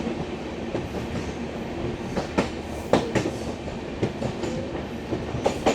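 Maitree Express passenger train running from Bangladesh into India, heard from on board: a steady rumble with repeated clickety-clack wheel beats over rail joints, fairly loud and close.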